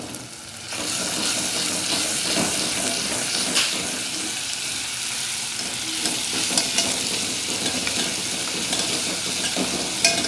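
Crushed garlic sautéing in a pan for a Khandeshi matki dish, with a steady loud sizzle and frequent stirring scrapes throughout.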